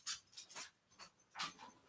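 Dog panting in a dim indoor room, several quick breathy bursts close by, irregular and fairly quiet.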